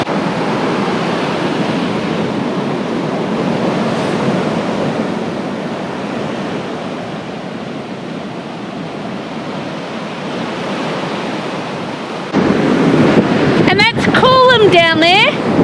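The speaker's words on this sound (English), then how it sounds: "watch these massive waves crashing" Massive ocean waves crash onto a beach in a steady, roaring wash with wind buffeting the microphone, and a voice briefly speaks near the end.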